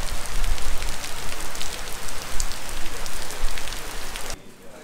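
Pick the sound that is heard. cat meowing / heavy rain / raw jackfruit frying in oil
heavy rain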